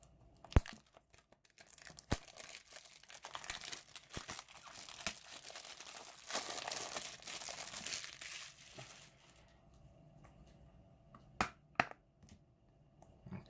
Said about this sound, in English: So now let's remove the plastic and get it unboxed.